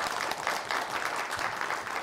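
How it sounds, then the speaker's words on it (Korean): Audience applause at a talk concert event, a steady wash of clapping from many hands, moderately loud and continuous throughout. "박수"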